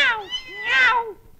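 A person imitates a cat, giving two drawn-out, wavering meows with a short gap between them, loud and close.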